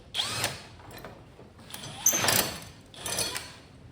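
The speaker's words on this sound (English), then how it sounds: "I gotta drill them out to 9/16, just give a little wiggle room for the bolt" A power drill whines through three separate bursts, each rising and falling, with brief pauses between, while drilling 9/16-inch bolt holes in a 1969 Chevy C10 pickup.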